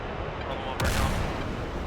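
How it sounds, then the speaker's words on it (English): In a military flight simulator game, a single rocket fires at a target with a sharp, loud blast under a steady background hum, then rumbles briefly as it falls away. "If that's the case, we'll use our last rocket on this guy."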